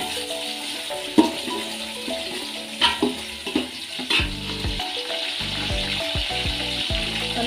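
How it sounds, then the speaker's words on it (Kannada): Ingredients for chicken biryani fry in a pan with a steady close-up sizzle, broken by a few clattering stirs and scrapes of a utensil against the pan. "ಎಲ್ಲ ಸೇರಿ ಚೆನ್ನಾಗಿ ಹುರ್ಕೊಳ್ಳೋಣ."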